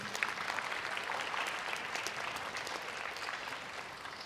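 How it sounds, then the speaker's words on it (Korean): Sustained audience applause fills a school concert hall after a student orchestra performance, a dense, steady wash of many hands clapping at even loudness throughout. "다시 한번 큰 박수 부탁드리겠습니다"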